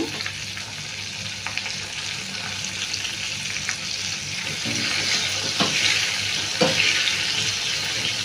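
Half an onion sizzles and crackles steadily in a hot pan, a close, continuous frying hiss with occasional sharper pops and stirring scrapes.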